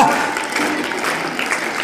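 An audience at a devotional Vitthal chant session claps steadily, a moderately loud wash of hand claps with a faint voice at the start.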